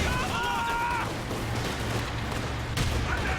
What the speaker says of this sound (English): Ah, it's a big nade.